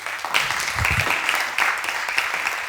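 Studio audience applauding at the end of a debate segment of a talk show, a dense steady wash of many hands clapping at close range with no pause.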